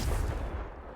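A Confringo fire spell blasting in the video game Hogwarts Legacy, a loud booming explosion that hits at once and rumbles away over about a second.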